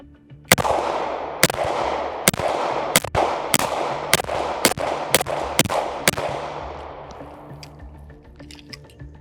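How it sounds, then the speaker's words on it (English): Beretta 92FS 9mm pistol fired outdoors, about eleven sharp, loud shots at a steady rhythm of roughly one every half second, each followed by a lingering echo that fades after the last shot. "Let's get to shooting the 92FS. This one is chambered in 9mm."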